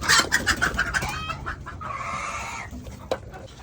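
Several hens on a poultry farm cluck in a quick rhythmic run, followed by one drawn-out squawking call and scattered softer clucks, with no talking.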